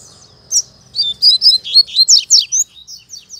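A rusty-collared seedeater (coleiro pardo) sings near a female, giving a close, loud, rapid series of sharp whistled notes in a quick rhythmic phrase over faint low background.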